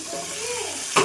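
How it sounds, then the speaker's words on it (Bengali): Boiled goat meat tipped into spice paste frying in a pot, a soft sizzle and stir followed by a sharp clatter near the end, close and fairly loud, no talk. "এবার আমি মাংসটা, সেদ্ধ মাংসটা এবার দিয়ে দেবো।"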